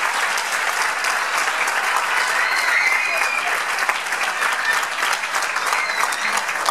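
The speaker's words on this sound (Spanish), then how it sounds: "Fuerte el aplauso para él" Loud, sustained audience applause at a festival poster award ceremony, a dense crowd clapping steadily for the winner with no pause.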